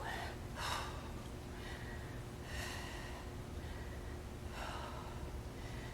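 Three sharp, breathy exhales while rowing a dumbbell in a strength and cardio workout, evenly spaced about two seconds apart over a steady background hum.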